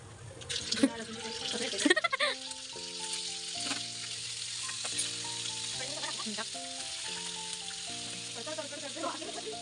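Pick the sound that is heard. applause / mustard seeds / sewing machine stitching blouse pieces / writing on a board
mustard seeds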